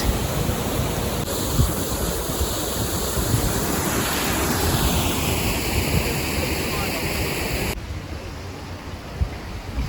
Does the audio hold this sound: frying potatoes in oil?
no